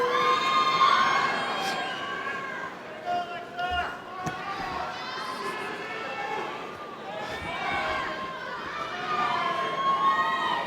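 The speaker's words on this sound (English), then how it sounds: "What an energized crowd." A large crowd at a University of Miami undergraduate graduation ceremony shouts and cheers continuously, with voices mixed in and the noise swelling and dipping.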